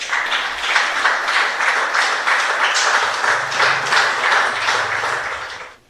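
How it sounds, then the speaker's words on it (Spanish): A church congregation applauds during a Spanish-language sermon, dense sustained clapping from many hands filling the room for several seconds before cutting off abruptly. "Dale al Señor un aplauso"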